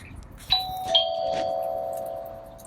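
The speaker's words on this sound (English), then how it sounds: "I'll ring the doorbell" A two-tone electronic chime from an Amcrest video doorbell rings once, ding then dong, with the second tone lingering and slowly fading in a quiet room.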